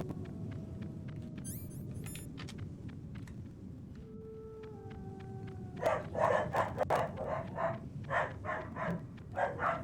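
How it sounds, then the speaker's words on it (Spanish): Dogs bark in repeated bursts during a Metal Gear Solid game, a run of sharp barks rising over steady background noise after a few electronic tones. "¿Están ladrando mis perros?"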